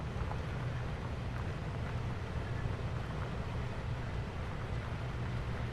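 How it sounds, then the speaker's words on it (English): A large tractor engine idles steadily in an open field after plowing, a continuous low rumble with some wind noise, loud and unbroken throughout with no talk. "This tractor is not really working, it's just idling."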